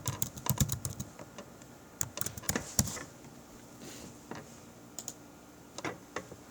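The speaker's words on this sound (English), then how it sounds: "Pretty sure I typed everything right" Typing on a computer keyboard while logging in to a site, with bursts of quick clicking keystrokes separated by short pauses, close and fairly quiet with no talk.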